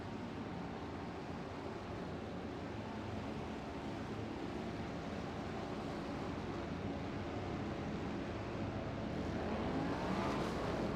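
A pack of GT3 and GTP race cars roars away at the green-flag start of a multiclass race at Fuji in a racing simulator, a steady dense engine drone that swells slightly near the end.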